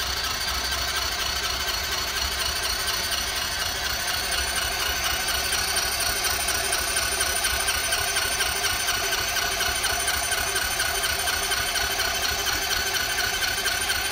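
A small motorcycle engine cranks steadily for the whole stretch, a loud mechanical whir with a high squealing edge and constant vibration, close by.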